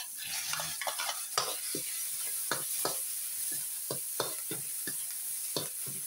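Garlic and onion frying in a pan, a steady close sizzle punctuated by frequent clinking scrapes of a spatula stirring at an irregular rhythm.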